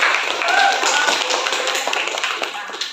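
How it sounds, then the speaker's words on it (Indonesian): A classroom of students claps for a classmate, a close, continuous patter of many hands that slowly tapers off. "Oke, untuk Tia berikan tepuk tangan lagi."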